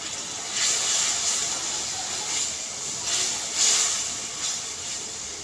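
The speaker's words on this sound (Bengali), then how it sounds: "মশলার তেল না ওঠা পর্যন্ত মশলাটা আমি নাড়তে থাকবো।" Masala spices fry in oil for chola bhuna, a steady bright hiss with a few louder swells as the mixture is stirred, no talking.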